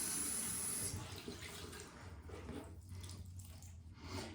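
Tap water runs and splashes into a sink while a face is rinsed during a morning cleanse, a steady close gush that continues throughout with shifting splashy texture.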